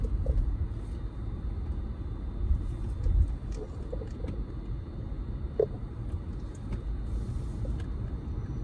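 A car drives through downtown Alpharetta, its steady low engine and road rumble heard from inside the cabin, with scattered small clicks and knocks over the drone.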